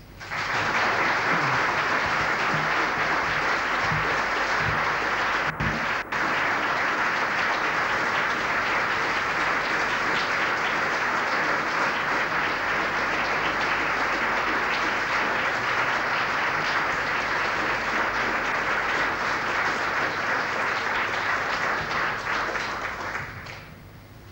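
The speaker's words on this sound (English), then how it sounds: "I think the applause is indicative of the value you attach to Dr. Jomsai's address this afternoon" Sustained audience applause after Dr. Jomsai's lecture, a dense, steady wash of many hands clapping that stays loud for about twenty-four seconds before fading quickly at the end.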